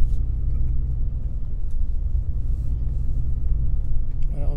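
Turbocharged V8 in a Bentley Mulsanne Turbo with a four-barrel Solex carburettor and three-speed automatic gives a steady, smooth low rumble while cruising, with a faint turbo whoosh above it and a voice speaking briefly over it.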